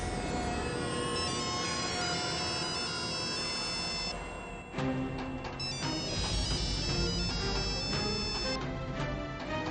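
A phone ringtone plays continuously and clearly, a bright looping electronic melody that shifts pattern partway through, with no talking over it.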